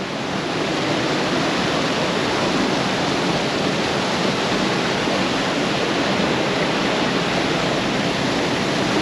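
A creek in the Sunol Wilderness flows over serpentine rocks, making a loud, continuous rushing and splashing close by that holds steady and unbroken from start to finish with no voices.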